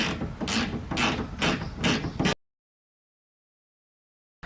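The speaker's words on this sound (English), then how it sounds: "So here we're back with a ratcheting wrench. That'll be a lot easier for this." Ratcheting wrench tightening a bolt on a 2015-and-up Dodge Challenger front bumper, several quick bursts of close, loud clicking for about two seconds, then silence.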